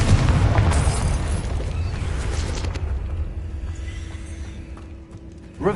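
Loud, booming spell blast from the Confringo fire curse in a Hogwarts video game erupts at once, then its rumble decays over several seconds into a quieter hum.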